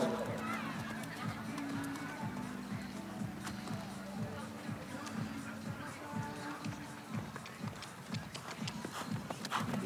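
A brown horse trotting at an Icelandic horse breeding show, hooves beating a quick steady rhythm close by, with someone commentating over the footfalls throughout.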